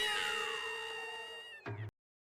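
A cat in an anime episode gives a single drawn-out, falling meow, close and clear, ending in a short squeak before cutting to silence.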